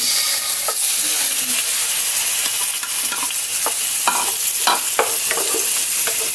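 Food sizzles loudly in a hot pan with a constant hiss, while a utensil stirs and scrapes in short irregular strokes, close up.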